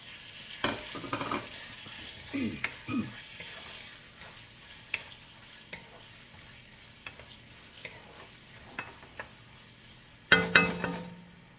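Chicken is added to a cooking pot and stirred while making sotanghon noodle soup, with scattered scrapes and soft clinks of a spoon against the pot over a faint sizzle, ending in a louder burst of sizzling near the end.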